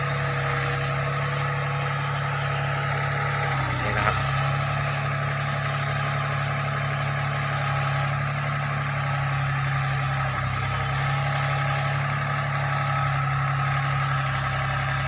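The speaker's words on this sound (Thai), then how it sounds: "สำหรับรถขุดรุ่นนี้เป็นรถขุด PC 30ใช้เครื่อง3สูบนะครับ" A Komatsu PC30 mini excavator's three-cylinder engine runs at a steady idle close by, a constant, even hum with no talking.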